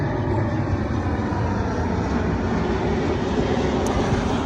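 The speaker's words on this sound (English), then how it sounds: "Pardon me if you hear the planes overhead." Steady, loud roar of airplanes passing overhead near a New York home, a continuous broadband engine drone filling the whole stretch with no voices.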